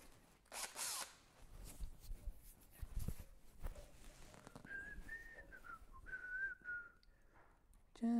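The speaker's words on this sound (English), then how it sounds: "I'm going to drill slowly." A drill slowly bores a hole in a Redragon K585 keyboard key, with faint intermittent whirring and a rising whine, plus soft handling clatter between short bursts, with no talk.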